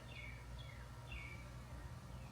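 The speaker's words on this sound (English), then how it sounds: "All you can hear are the birds." Several short bird chirps ring out faintly over a steady low outdoor rumble, spaced irregularly across a couple of seconds.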